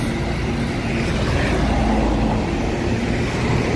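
Several Rosalia Indah buses pull out of a busy bus station ticket office one after another, a steady low engine rumble and road noise filling the air without letup, no voices.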